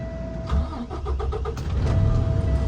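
A Class A truck engine cranks with a rapid series of starter chugs during a pre-trip safe start with the truck in neutral and clutch in, then catches and settles into a loud, steady close idle.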